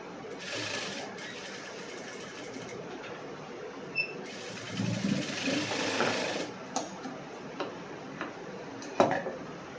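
A sewing machine runs in steady bursts while stitching a cross-cut blouse, its motor whirring with rapid ticking needle strokes. A few louder knocks come from handling the fabric, and no one speaks.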